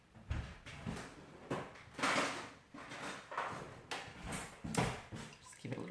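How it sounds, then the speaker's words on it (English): A kitchen drawer pulled open to fetch a spoon, heard as a series of close wooden slides, knocks and rattles in irregular bursts, with no talking. "I'm just going to quickly grab a spoon out of my drawer over here."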